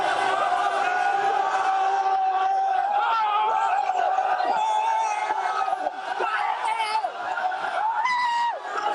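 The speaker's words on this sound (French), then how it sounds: "Du monde fou, une foule en extase." A huge ecstatic crowd of football supporters celebrating on the Corniche Ouest in Dakar roars, chants and shouts continuously and loudly, with horn-like tones and voices rising and falling throughout.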